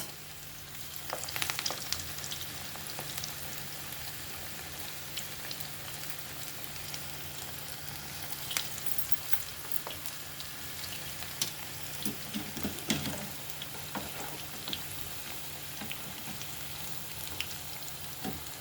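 Onion pakodi made with field beans deep-frying in hot oil, a dense steady sizzle with crackling bursts as more pieces drop in, close and continuous without speech.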